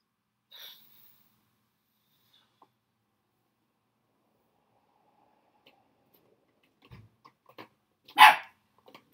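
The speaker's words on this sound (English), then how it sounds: "Now that's my dog barking" A pet dog barks once, loud and close, in an otherwise quiet room with a few faint ticks and clicks before it.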